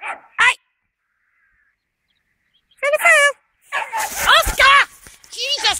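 A dog barks in short, loud bursts, with long silent gaps between a few sharp yaps and a cluster of rapid barks near the end.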